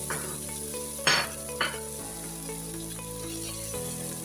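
Butter and ghee melting in a pan for chicken karahi, with a soft sizzle under a low hum and two sharp metallic clinks of a utensil against the pan early on, and no talking.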